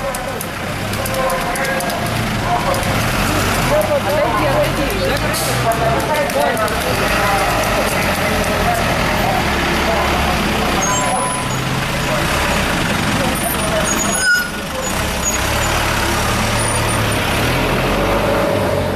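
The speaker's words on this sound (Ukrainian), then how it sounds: "проїжджають автобуси" Buses and a trolleybus roll past on a busy Kyiv street during a protest, a loud continuous engine rumble with a short brake hiss, while people talk over the traffic throughout.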